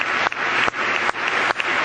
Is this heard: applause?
yes